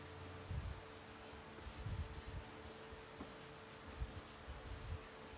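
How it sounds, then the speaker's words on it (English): Wet distressing on a mirror transfer: faint, repeated rubbing and scrubbing strokes over a surface, soft and uneven in rhythm, over a low steady background hum. "This is the wet distressing."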